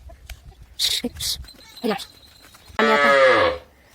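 A cow calf on a farm gives one loud, close, drawn-out moo after a few scattered thumps and rustles, with quiet farmyard background around it.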